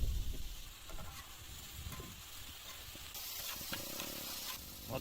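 Onions and meat sautéing in a pan for goose kothu parotta, a soft sizzle and hiss with some stirring and scraping, faint and close.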